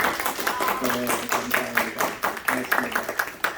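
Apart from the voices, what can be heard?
audience applause in church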